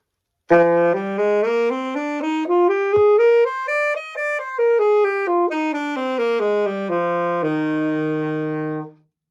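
A saxophone plays one smooth, slurred run of notes climbing up and back down without breaks, solo and steady.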